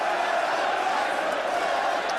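A crowd of about 48,600 in a football stadium at Arsenal versus Manchester United: a steady, loud, continuous roar with no distinct breaks, filling the space evenly throughout.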